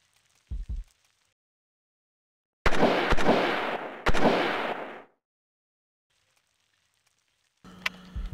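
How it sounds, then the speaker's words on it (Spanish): Gunfire inside a house in the video game Alone in the Dark IV: after a faint thud, two loud, close blasts land about a second apart and each rings out briefly. A sharp crack and a low hum follow later. "hay tiros dentro de la casa"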